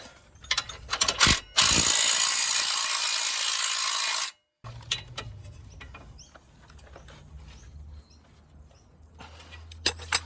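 A ratchet wrench cranks a 19mm ball joint nut on a car, held with a 5mm Allen key, giving a loud sustained burst of mechanical clicking followed by quieter scattered clicks and knocks up close.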